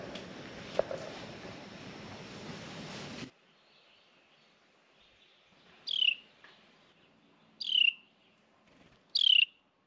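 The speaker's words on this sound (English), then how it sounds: "Mama Bird's back." A bird gives three short, clear chirps, evenly spaced and fairly close, after a stretch of broad noise cuts off into near quiet.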